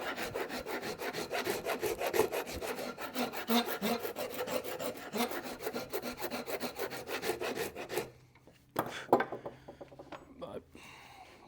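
Rapid rhythmic rubbing of a worn sanding sponge along a wooden axe handle, rasping back and forth for several seconds before a few scattered scrapes and handling noises, with low talk audible underneath.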